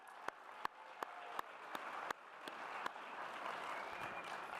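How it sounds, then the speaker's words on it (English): Applause for a senator rising steadily over about five seconds, with sharp isolated claps standing out near the start before the clapping thickens into a fuller, moderately distant sound. "can we give another huge round of applause to Senator Wofford for all of his leadership right here"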